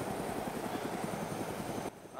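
A helicopter in an online multiplayer shooter game drones steadily with a dense, churning rotor-and-engine roar, continuous and close for about two seconds before dipping abruptly near the end.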